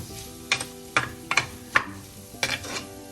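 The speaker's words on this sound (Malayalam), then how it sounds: "എല്ലാം കൂടെ ഒന്ന് വഴറ്റി വഴലട്ടെ" Tomatoes and Kora fish masala sauté in a pan, with a utensil clinking sharply against the metal about six times in an uneven rhythm over a soft background sizzle. The sound is close, and no one speaks.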